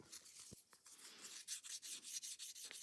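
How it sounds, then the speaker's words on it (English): Steady 800 grit sandpaper rubbing on a resin gearshift knob, quick back-and-forth strokes scraping close by at a soft, even level. "Let's start sanding it with some 800 grit."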